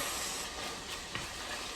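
Steady sizzling hiss of mixed vegetables frying in a pan, continuous and close, with no voices.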